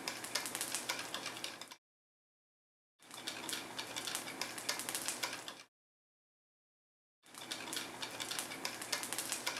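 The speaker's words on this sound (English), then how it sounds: "Then we simply sift a little flour in and begin whisking immediately" Whisking flour into a thickening mixture for goulash: a steady, brisk metallic scraping and swishing in a bowl, fairly quiet, coming in three separate bursts with gaps of silence between them.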